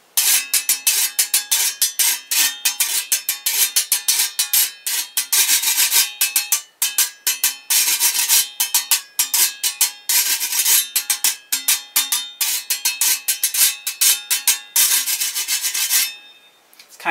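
A metal tent stake scraped as a friction percussion instrument, producing loud, rapid rasping strokes in a steady rhythm that run without pause until a short fade at the end.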